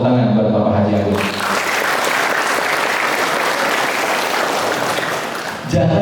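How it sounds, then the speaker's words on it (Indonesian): Audience applause for Bapak Haji Agus, loud and sustained clapping from a crowd of students at a gathering, rising after a brief lead-in and fading near the end. "Tepuk tangan buat Bapak Haji Agus."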